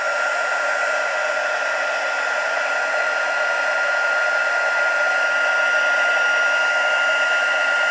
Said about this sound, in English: got my heat tool, don't panic. Get it a bit warm, and we're just going to heat that sentiment up there.